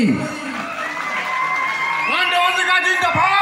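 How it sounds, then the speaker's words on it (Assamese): Audience applause and cheering fill a hall at the Ahom Jatiya Mahasabha's third foundation-day cultural event, honoring a singer; a steady broadband clatter of clapping mixes with scattered shouts and voices. "এটা উচ্চ হাত চাপৰি"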